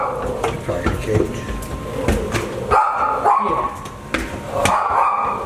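A puppy barks in sharp, repeated yaps from inside a house, probably from a cage, while people talk and walk through the rooms during a property viewing in Cleveland.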